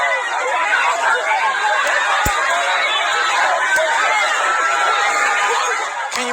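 A crowd of protesters in Jacksonville, Florida fills the air with dense, steady shouting and chatter, a loud continuous hubbub with a couple of sharp clicks.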